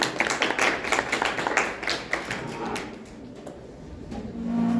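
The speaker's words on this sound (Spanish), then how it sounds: "Un aplauso para tu compañero." Classmates in a surgery lecture class clap for a peer, a scattered burst of hand claps for about three seconds that thins out and fades, with some room noise after.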